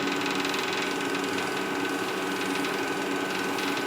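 An acrylic pen blank spins on a lathe while wet-dry automotive sanding film rubs against it, a steady loud whirring hum with a fine abrasive hiss and no talking.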